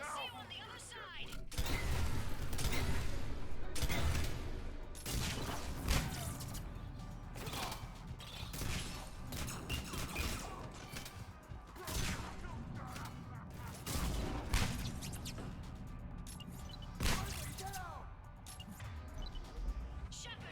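Gunfire in a firefight in the video game Mass Effect 3: dense bursts of shots, crashes and impacts crowd together at close range, while voices talk over the battle.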